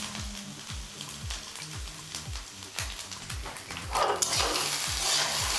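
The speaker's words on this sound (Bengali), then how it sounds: "ভাতটা এখন 3 থেকে 4 মিনিট ভেজে নেব।" Cooked everyday rice being fried and stirred in a pan with sugar and salt, repeated scraping strokes of the spatula in a steady rhythm over a continuous sizzle, close and moderately loud, sizzle swelling near the end, no voices.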